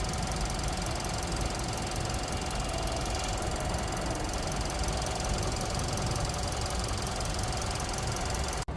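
The engine of a 2024 Nissan Altima SV running, a steady and unbroken hum with a faint whine that holds at an even level for several seconds before cutting off suddenly.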